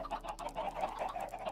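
Chickens cluck continuously in Minecraft, a steady overlapping patter of short blocky game clucks around an automatic chicken cooker farm, close and fairly even in loudness, with no talking.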